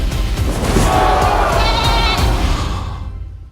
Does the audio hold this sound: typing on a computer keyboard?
no